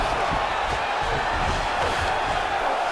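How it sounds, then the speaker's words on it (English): Arena crowd in a UFC mixed martial arts video game roars and cheers as fighters rise from a grappling exchange, a loud continuous wash of voices filling the space with no commentary over it. "crowd just loving it as the fighters, after an extended grappling battle, make their way back to the feet"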